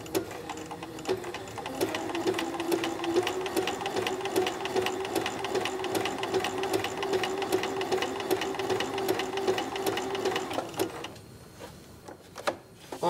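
A sewing machine stitching along the outline of an appliqué design runs at a close, even pace with fast regular needle ticks for about ten seconds, then stops, leaving a few faint clicks.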